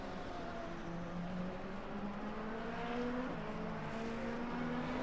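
Lamborghini V8 race car from 2024 in the Le Mans Ultimate racing game at the Imola circuit, its engine droning and rising through gears with smooth pitch sweeps, steady and moderately quiet, no voices.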